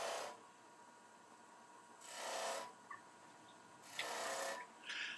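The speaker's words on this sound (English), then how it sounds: "So there's my first roughing cut." Shopsmith wood lathe making a roughing cut on a wooden spindle: three bursts of harsh, scraping tool-on-wood rasping separated by quieter stretches of the machine running, close and fairly quiet.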